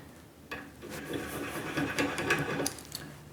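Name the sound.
Noga rotary deburring tool chamfering washer inside edge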